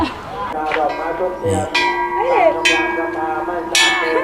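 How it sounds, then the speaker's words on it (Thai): A temple bell at Wat Khao Din, a hilltop temple, is struck several times at irregular intervals, each strike ringing out brightly with a long metallic hum that sustains between hits. "ก็จะมีระฆังให้เราเคาะ"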